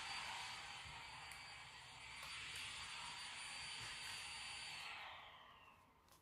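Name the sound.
vacuum cleaner running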